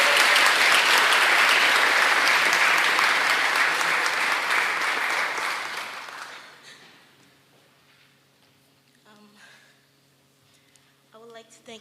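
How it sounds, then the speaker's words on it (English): A full round of applause at a Martin Luther King, Jr. scholarship award event rings out strongly, then fades away after about six seconds into a quiet room with a voice starting to speak. "so please give a round of applause"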